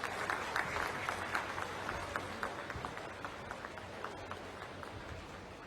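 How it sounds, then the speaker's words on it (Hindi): A large audience at an official event applauds the Prime Minister of India, a dense, continuous clapping that stays steady and fairly distant throughout, without speech over it. "एक बार जोरदार तालियों के साथ खड़े होकर अपने स्थान पर अभिनंदन"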